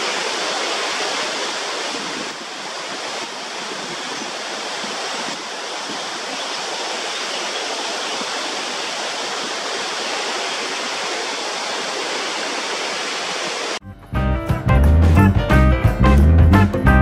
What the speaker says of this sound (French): La cascade de Pissevache, d'une hauteur de 116 mètres, est alimentée par les eaux de la Salanfe.